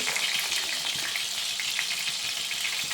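Onions frying in hot oil for a village-style fish curry, a steady close broadband sizzle with small crackling pops running evenly through the whole stretch, with no voices.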